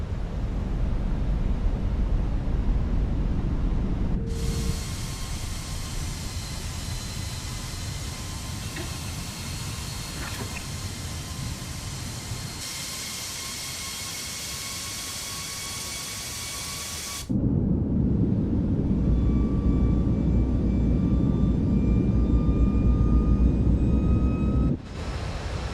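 Airliner cabin on approach from Chambery to Gatwick with landing gear down, a loud continuous broadband roar and engine drone that shifts abruptly in level as the configuration changes, with no talk.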